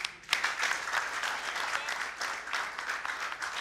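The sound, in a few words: audience applause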